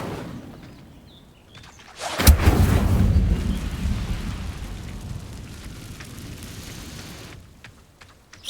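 A fire spell cast in Hogwarts Legacy erupts as a sudden loud whoosh-boom, then a sustained roaring rumble that slowly fades over several seconds, with no voices.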